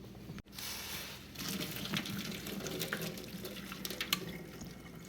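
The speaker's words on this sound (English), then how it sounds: "So we're going to turn that off and we're going to strain it." Hot water from boiled cauliflower pours and splashes out of a pot through a strainer into a sink, a quiet continuous gush with scattered drips and small clatters, preceded by a sharp knock.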